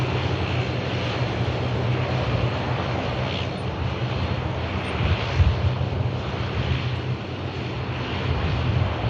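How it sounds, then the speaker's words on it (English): A Virgin Atlantic airliner departing Manchester Airport for Orlando gives off a steady, moderately distant jet roar with low rumble, constant throughout without voices. "next out is going to be that Virgin Atlantic flight to Orlando"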